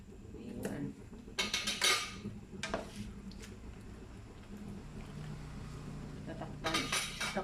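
Bihon noodles go into a pan of pancit guisado with a few sharp metallic clatters and scrapes of utensils against the pan, over a quiet low simmer.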